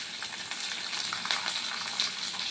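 Dals and curry leaves frying in oil in a pan give a steady, fairly quiet sizzle, an even crackling hiss with small pops and no talking.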